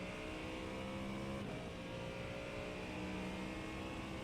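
A Ford Mustang GT3 engine in iRacing at Miami International, a loud sustained roar pulling hard through the gears after a brief dip mid-way, heard from inside the car.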